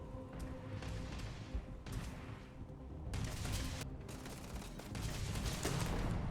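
Gunfire in a fight in the video game Starfield, with repeated bursts of rapid shots and heavier blasts that come in uneven clusters, fairly faint and mixed with other game sounds.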